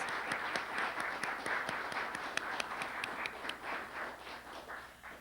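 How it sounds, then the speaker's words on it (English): An awards ceremony audience applauds, a dense continuous wash of clapping hands with a few sharper claps standing out near the front, slowly thinning toward the end. "so if you wouldn't mind standing up, Nancy, to take a round of applause for everybody on behalf of the judges."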